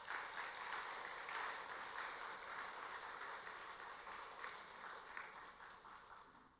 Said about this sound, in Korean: 우리 모두 힘내라고 서로에게 박수 한번 칩시다